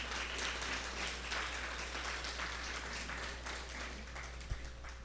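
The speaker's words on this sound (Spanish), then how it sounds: "Le hace un fuerte aplauso al Dios Todopoderoso." Church congregation applause, a sustained, even wash of clapping over a low steady hum, with one sharp knock near the end.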